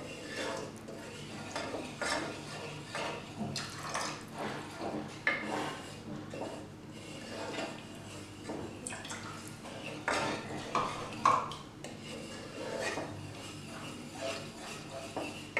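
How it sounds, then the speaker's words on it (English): Milk goes into gravy in a pan on a switched-off gas stove and is stirred for a Carrot & Oats Kofta Curry, with soft repeated scraping and clinking of a utensil against the pan, fairly quiet throughout. "we'll add the milk to this and we'll keep stirring it"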